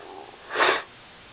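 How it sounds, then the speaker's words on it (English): A single short, close sniffle from someone with allergies rises and fades within a moment, with quiet around it. "the Ohio Valley sniffles from allergies"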